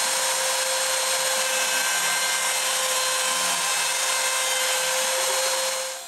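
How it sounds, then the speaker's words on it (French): An X-Carve CNC router cuts a wooden base, giving a steady, loud, high-pitched spindle whine with grinding cutting noise underneath, running continuously before fading slightly at the end. "Puis je laisse le X-Carve couper ça."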